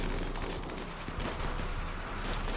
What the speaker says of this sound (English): lead him straight into the turrets